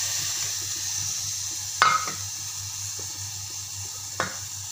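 Green beans and potatoes sizzle steadily as they are stir-fried in a pan for sabzi, with a constant close hiss and a couple of sharp scraping clinks from the spatula.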